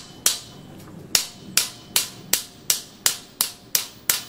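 Sharp metallic taps driving a bearing into a copper wind spinner, about ten crisp evenly spaced strikes roughly every third of a second, close and clear with no talking.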